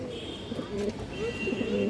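Jet-black Muslodom pigeons coo in a loft, a pair of large birds giving low, repeated throaty coos close by, with a faint background tone and no clear talk.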